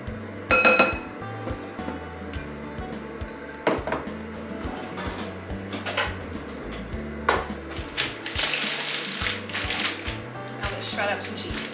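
Spatula scraping gelled mayonnaise from a glass jar in a home kitchen, with repeated clinks and scrapes of metal and glass, some sharp taps and a longer rasping scrape toward the end.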